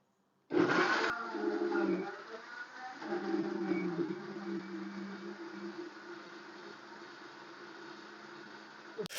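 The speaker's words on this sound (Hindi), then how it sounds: "अब इसको करेंगे ब्लेंड।" A kitchen blender whirring steadily as it purees soaked tamarind pulp for a green chutney, starting abruptly and holding a loud, even motor drone for several seconds.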